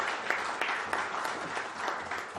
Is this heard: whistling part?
no